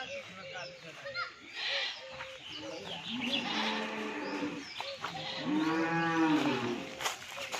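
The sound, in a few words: buffalo mooing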